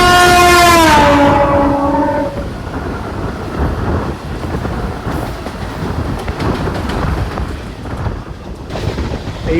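An express train races past alongside a waiting local, opening with a loud two-second horn blast that gives way to a steady, close rolling rumble of wheels and carriages.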